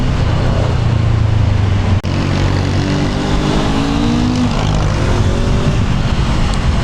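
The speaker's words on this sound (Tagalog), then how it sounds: "Pag binibirit ko tong CL" A Honda CL500 motorcycle engine revving while riding, loud and close, with rising pitch sweeps as the throttle opens, a steady engine drone and wind rush throughout, and a brief dip near two seconds.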